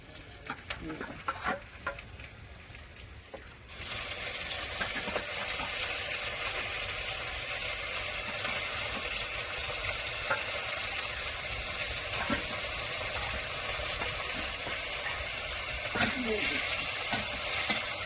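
Snails fry with onions in a pan, first with some scraping and clatter, then a steady close sizzle and stirring that holds at an even level throughout, with faint water sounds in places and no clear talk.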